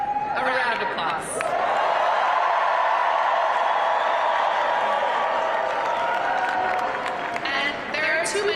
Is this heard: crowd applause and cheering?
yes